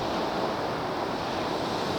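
Surf washes steadily onto Kuta Beach in Bali, a continuous broadband roar of breaking waves with wind noise and no voices.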